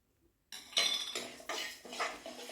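Black gram and moong dal dry-roasting in a pan rattle and clatter in several loud bursts as they are stirred, following a short silence.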